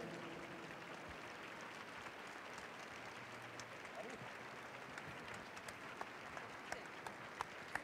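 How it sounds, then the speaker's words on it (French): Audience applause filling the Grand Palais during a show jumping event, a broad steady patter of many hands clapping at a distance with a few sharper claps near the end. "vos applaudissements vont continuer"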